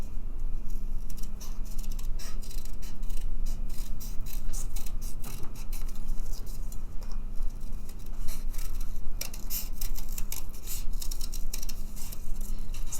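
Scissors snipping steadily through folded paper while cutting out a pumpkin shape, a close, continuous crisp rustle of small snips with no talking.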